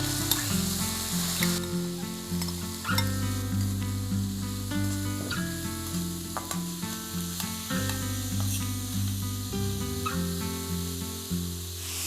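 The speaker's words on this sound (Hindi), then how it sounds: "तो मैं इन प्याज़ों को सिम पे भूनूंगी अच्छे से जब तक ये ब्राउन कलर के ना हो जाएं" Chopped onions fry slowly in oil with ginger-garlic paste over low heat for a chicken curry. A continuous hissing sizzle sits under louder background music.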